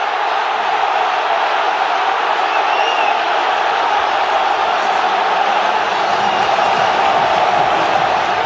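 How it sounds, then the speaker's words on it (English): A large crowd of football supporters roars continuously in a stadium after a goal, a dense, loud wall of cheering that holds steady throughout. "delirium from the supporters"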